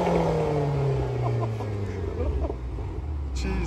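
A Ferrari sports car drives past outdoors, its engine loud and near, then the pitch falls away as it passes, with faint voices in the background.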